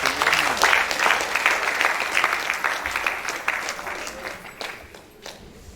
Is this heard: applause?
yes